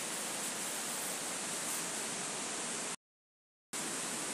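A waterfall in the Sahyadri hills, running low on water, roars as a dense, constant broadband rush, close and loud, cut by a brief dropout of total silence before resuming.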